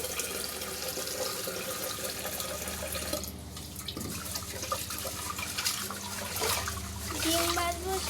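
Water runs steadily from a tap while dishes are washed at a sink, a continuous close splashing with occasional clinks and a person talking over it.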